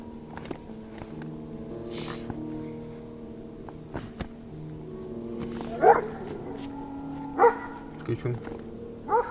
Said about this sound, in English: Hours pass in silence, until suddenly, Kuchum starts to bark.